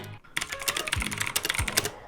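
Fast, crisp clicking of a Typhoon Mechanical Keyboard Pro MK12 with clicky switches, a dense run of sharp key presses heard close and alone after a brief pause.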